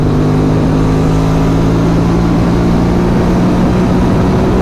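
An Aprilia Dorsoduro 750 twin-cylinder motorcycle engine pulls hard in fourth gear during an overtake, a loud close steady drone with rising tone and constant wind rush.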